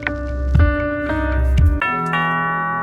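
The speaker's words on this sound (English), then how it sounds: "Alright, ringing someone's doorbell." A chiming electronic doorbell in a video game rings out in a short melodic sequence of bright, sustained tones, loud and clear with nothing else over it.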